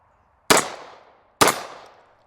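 Two loud, sharp shots from a Kimber KDS9C 9mm pistol, spaced about a second apart, each a hard crack followed by a short fading echo, with quiet between and no talking.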